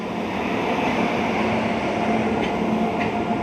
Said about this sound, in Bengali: দেখতে পাচ্ছেন ট্রেন ঢুকে গেছে। এতে কয়লা আছে, কয়লার গাড়ি